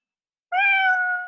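A single clear cat meow begins abruptly after a brief silence, loud and close, holding its tone before ending.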